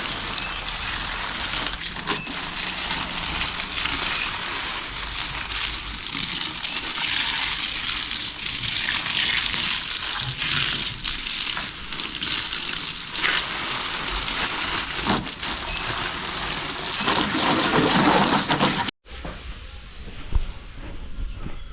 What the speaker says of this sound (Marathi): चला तर सकाळ सकाळी सर्व झाडांना पाणी घालून घेऊया